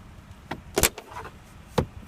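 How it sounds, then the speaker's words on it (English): Inside a 2015 Toyota Highlander XLE V6, the manual rear window sunshade is pulled, producing a few quiet plastic clicks and a soft sliding rasp, with a final sharp snap near the end. "you do have the manual sunshade for the rear window."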